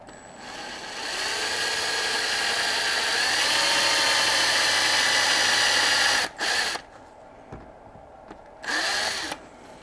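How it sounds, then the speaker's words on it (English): A power drill runs steadily for about six seconds drilling a hole in Bondo body filler on a sculpture, then stops, followed by a few brief clicks and one more short burst. "I should have no problem drilling out the hole for it"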